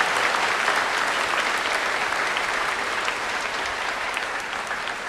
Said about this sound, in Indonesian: Kita beri tepuk tangan untuk para pastor yang baru ditahbiskan.